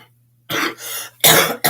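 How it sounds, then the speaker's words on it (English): A person with a lingering cough lets out a few harsh, loud coughs and throat-clearing bursts in short clusters after a brief quiet moment, close to the microphone with a faint steady hum underneath. "sorry guys, I'm not over this cough yet"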